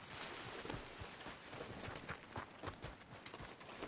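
Horse hooves clip-clop continuously at a steady trotting rhythm in Red Dead Redemption 2, fairly loud and with no talk over them.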